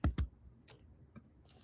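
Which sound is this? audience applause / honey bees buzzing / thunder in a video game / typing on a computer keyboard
typing on a computer keyboard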